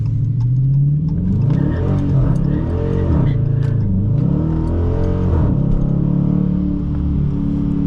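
A Dodge Challenger R/T engine revs loudly through a power slide, its deep note rising and falling repeatedly in quick surges before holding a sustained roar.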